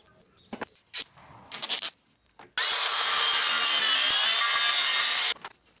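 A hand saw trims a piece of wood slightly too long, starting with a few light taps and scrapes, then a steady, loud burst of rapid sawing strokes for about three seconds before stopping.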